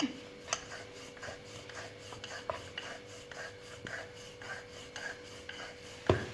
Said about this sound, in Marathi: एकदम पातळ पान लाटून घेणार आहे आपण हे